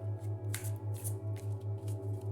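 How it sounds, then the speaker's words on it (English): A deck of First Light oracle cards is shuffled by hand, a quiet close riffle of papery flicks and slides, with a steady faint rhythmic hum pulsing underneath. "let's give it a quick shuffle here for these beautiful first light cards"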